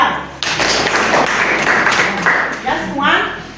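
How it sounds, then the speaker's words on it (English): An audience at a menstrual hygiene workshop for girls in Muchinga Province, Zambia claps for a girl in a loud, close burst of clapping that swells again near the end, with some voices mixed in. "Clap for her."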